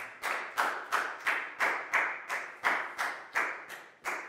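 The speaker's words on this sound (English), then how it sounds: "Big round of applause for Prel," Classroom clapping for a student, about ten slow, evenly spaced claps, each a crisp close slap with a short decay, in a steady rhythm and without talking.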